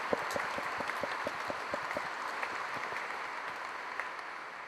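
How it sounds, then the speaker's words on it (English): Audience applause for a military band at a Marine Aircraft Wing change of command ceremony, steady dense patter of many hands clapping at a moderate distance throughout. "So please join me in a round of applause for the band."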